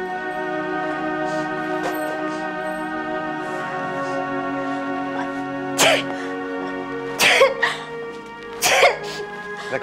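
A woman in a family household sneezes several times in a row, sharp bursts growing more forceful, over a continuous musical drama backdrop.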